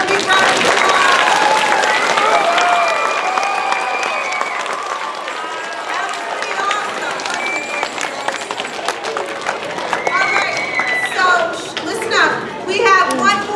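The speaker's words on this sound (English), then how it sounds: "So let's give them one more big round of applause." A big round of audience applause at an elementary school Christmas show, loud sustained clapping that gradually gives way to children's chatter and excited voices near the end.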